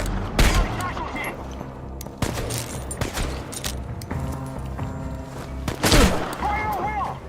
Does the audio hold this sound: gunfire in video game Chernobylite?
yes